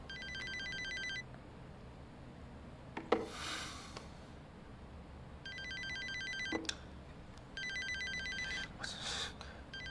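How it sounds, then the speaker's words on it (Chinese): A mobile phone rings in three bursts of electronic trilling tones, separated by pauses in an indoor scene from a Chinese TV drama, with a few soft knocks and movement sounds between rings. "金少，要不你帮我接吧？ 你就说我跟客户谈判呢，然后忘拿手机了啊！"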